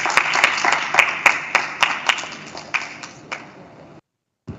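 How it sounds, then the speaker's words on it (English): An audience at an energy-transition technology panel event breaks into applause for the panelists, a dense burst of clapping with sharp individual claps that gradually thins and fades out after about four seconds, heard close with no talking. "please join me in a round of applause"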